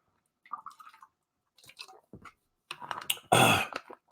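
A man takes a drink of water close to the mic: a few soft wet mouth and swallowing sounds, then a louder gulping slurp near the end, with no talking.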